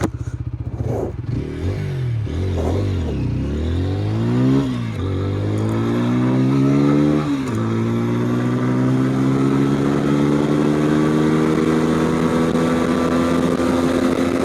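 A TVS Apache RTR 160 4V motorcycle accelerates hard from a standstill during a speed run, its engine note rising through several gear changes with short dips between shifts and then holding a long, loud, climbing drone.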